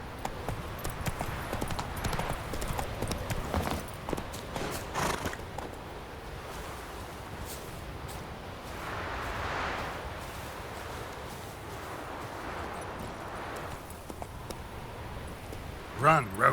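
Roach, Geralt's horse in The Witcher 3, gallops with a muffled, steady hoof rhythm under ambient game sound, while a voice speaks to the horse over it.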